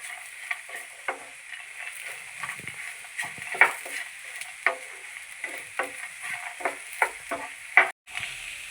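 A spoon stirs fried cashews, raisins and coconut pieces in a pan, with soft sizzling and a series of irregular scraping and clinking strokes, close up with no talk.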